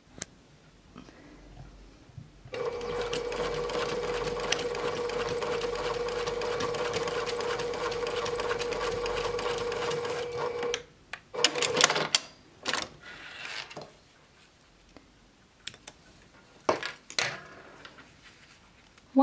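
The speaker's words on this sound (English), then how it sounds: "we're going to sew right along this edge with 1/4 inch seam allowance" A sewing machine stitches a 1/4 inch seam along the fabric edge of a composition book cover with zipper pouch, a steady loud whirring run of about eight seconds, followed by scattered clicks and handling noises.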